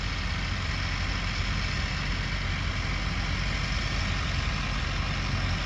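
A tractor engine runs steadily nearby on a farm during the sugarcane season, a constant low, throbbing diesel rumble without pauses or voices.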